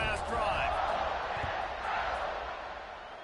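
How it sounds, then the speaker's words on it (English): A football stadium crowd during a college football game roars in a steady, dense wall of cheering throughout, with no break or quiet moment. "this crowd is feeling themselves after that last drive"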